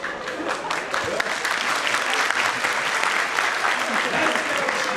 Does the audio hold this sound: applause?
yes